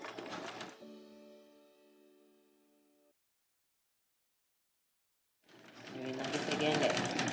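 A sewing machine joins jumper top pieces with a short whirring burst at the start. A fading tonal ring follows, then silence, and a longer, louder run of stitching comes at the end.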